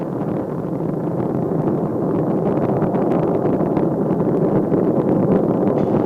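Space Shuttle Discovery on the STS-128 launch from Kennedy Space Center, climbing through transonic ascent, gives a steady, dense, far-off roar that holds without a break throughout.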